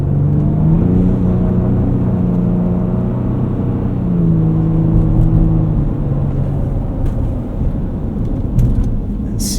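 A 2024 Ford Ranger Raptor on mud-terrain tires drives through snow in slippery mode, its engine droning loud and close with shifting pitch, tires crunching and rumbling beneath, and a few clicks and knocks toward the end.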